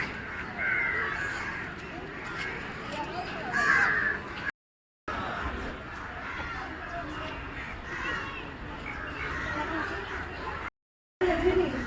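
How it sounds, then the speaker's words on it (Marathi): Crows at Byculla zoo in Mumbai give repeated harsh caws around the enclosures, mixed with chatter and people talking nearby. "कावळे काय मजा काय त्याची"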